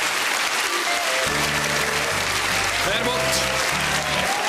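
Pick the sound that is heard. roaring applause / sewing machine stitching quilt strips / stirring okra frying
roaring applause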